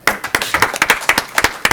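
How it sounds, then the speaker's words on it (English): Applause at a city council meeting, a short burst of scattered clapping from a small crowd in a meeting room, close and fairly loud, lasting under two seconds. "Big round of applause right here."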